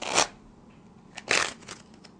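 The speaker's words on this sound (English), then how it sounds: "here is the full shuffle" A full shuffle of a deck of playing cards during a simple card trick, heard as two short riffling bursts, the second longer and followed by a few lighter flicks, close and quiet with no talk.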